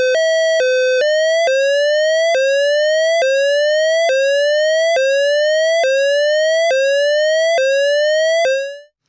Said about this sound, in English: this is where you get the different LFO wave shape by switching it into sawtooth